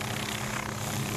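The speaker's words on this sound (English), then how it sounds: "As we see this helicopter being moved in the Warbird area, you can see they are now parking it next to" A Vietnam-era Huey helicopter is moved and parked in the warbird area at EAA AirVenture 2022, giving a faint, steady rotor and engine rumble heard at a distance with broad background noise.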